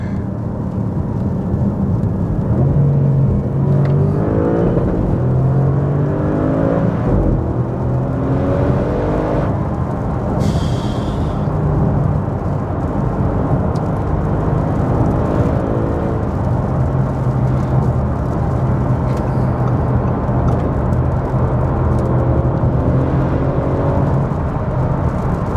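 Loud, close engine note of an Audi RS6 C7 climbing through upshifts and dropping through downshifts, repeated surging revs with brief gaps at each gear change, a continuous throaty roar with no one speaking.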